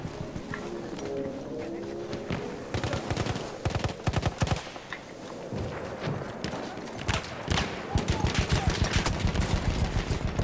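Gunfire in Battlefield 1, a World War I shooter: bursts of rapid shots and sharp cracks come and go under a noisy battlefield bed, with quick volleys toward the end and some talk mixed in.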